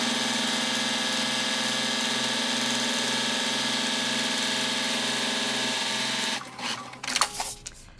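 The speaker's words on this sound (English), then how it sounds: "we're gonna go to the sewing machine, and we're gonna stitch with a quarter inch seam across." Sewing machine running steadily, stitching a quarter inch seam across a vinyl and zipper project bag; a loud continuous motor hum for about six seconds, then it stops and a few handling knocks follow.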